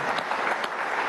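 A studio audience applauding, a brief, steady wash of clapping from many hands at moderate loudness with no voices over it.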